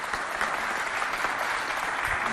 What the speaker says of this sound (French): Et pour ça, applaudissez très fort pour elle.